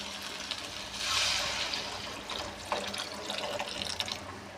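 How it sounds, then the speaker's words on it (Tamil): Dissolved tamarind water pours into a cooking pot for an okra tamarind rasam, a steady liquid splash and trickle running throughout at moderate level. "இதுக்குள்ளே நம்ம கரைச்சி வச்ச புளியை ஊற்றிக்கலாம்."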